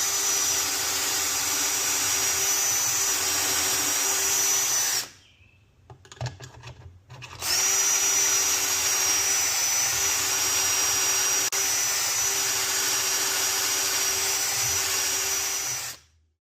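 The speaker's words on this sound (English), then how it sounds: "Clamp this back in and drill two more holes." A power drill boring pocket holes into pallet wood, a loud steady high whine running for several seconds, stopping briefly with a few clunks of the clamp, then whining on again for a long stretch before cutting off.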